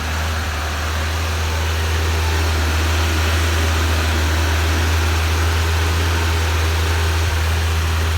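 A Suzuki Carry engine running steadily, a loud, constant low hum with broadband mechanical noise throughout and no other sounds.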